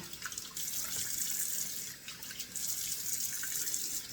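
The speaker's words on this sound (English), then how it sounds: "I'm just going to put 2 splashes of cold water in the face first" Cold water running from a sink tap while a man splashes it onto his face before shaving, a continuous close splashing rush with brief dips and no speech.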